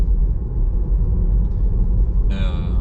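Car cruising on autopilot at about 50 km/h along a small forest road behind a slow vehicle, a steady low rumble of engine and road noise filling the cabin throughout.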